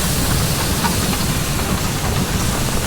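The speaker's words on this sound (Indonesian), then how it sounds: "Nah ini keretanya tiba." A train pulls into a station in the video game Railway Empire 2, heard as a loud, steady wash of hissing steam and rumbling engine noise that holds evenly throughout without speech.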